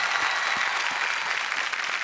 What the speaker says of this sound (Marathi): जोरदार टाळ्या ज्येष्ठ अभिनेते मोहन जोशी सरांसाठी